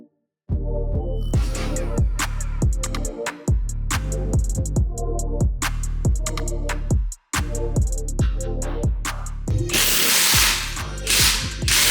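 A cordless impact wrench hammers at a stuck nut on an R33 Skyline in rapid loud bursts with short gaps, a close, rattling mechanical pounding that ends in a harsher, noisier stretch.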